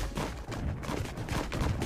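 Rapid continuous gunfire from a Fortnite match, a dense rattling volley of shots that keeps going without pause, moderately loud throughout.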